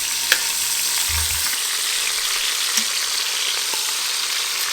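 Pork carnitas frying in an Instant Pot, a steady close sizzle with a few light clinks of stirring, no voices.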